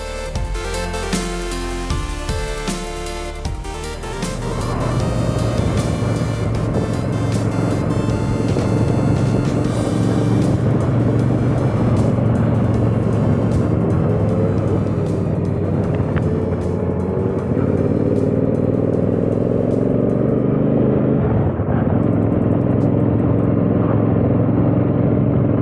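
A 2012 Triumph Bonneville America motorcycle being ridden, its engine a steady loud rumble with harmonic drone and wind, shifting pitch slightly as it cruises, no voices.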